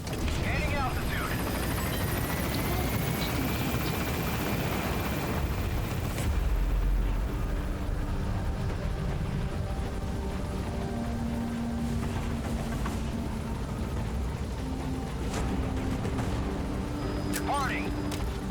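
In Metal Gear Solid, a helicopter lifts off and climbs with a loud, continuous rotor roar, and a voice speaks over the engine noise.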